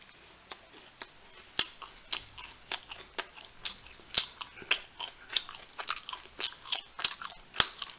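Close, crisp crunching and chewing of English muffin pizza burgers, steady rhythmic bites and mastication repeating about twice a second with no talk.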